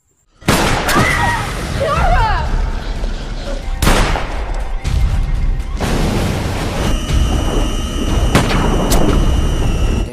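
Video game gunfire bursts out as several sharp, loud shots and booms spaced a second or two apart over a busy, noisy game background, with a voice briefly audible.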